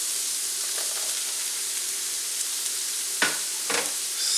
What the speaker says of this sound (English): now I'm going to add the onion